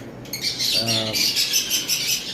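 Lovebirds give a burst of shrill, rapid chirps and squawks at close range, with a short harmonic call in the middle and more chattering around it.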